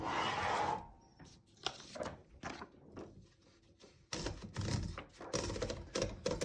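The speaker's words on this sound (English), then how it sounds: "the margins are located behind the carriage, and you just push them and move them like this" Margin stops on a 1938 Corona Standard portable typewriter being pushed and slid behind the carriage, giving a run of close metallic clicks, scrapes and sliding rattles in irregular bursts, with no talk.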